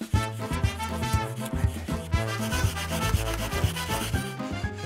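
A hand saw cuts through a snow block for an igloo, a rapid rhythmic rasping of strokes, close and loud, with no voices.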